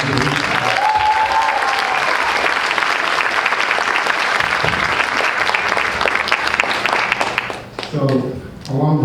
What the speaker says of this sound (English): another round of applause for this piece